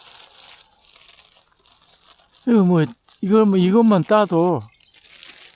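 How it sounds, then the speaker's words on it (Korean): Soft plastic crinkling and rustling from a plastic bag as seeds of a bladdernut tree are gathered outdoors in autumn, quiet before and after a stretch of close speech. "이 비닐봉지에 담으면 제법 많이 담아질 건데,"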